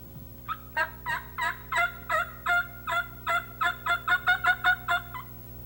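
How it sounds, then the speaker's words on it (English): A wild turkey tom gobbles in a long run of about fifteen rhythmic rattling bursts that grow quicker toward the end, heard at moderate distance in an otherwise quiet outdoor setting. "The idea is to get the tom to gobble back and find out exactly where he is."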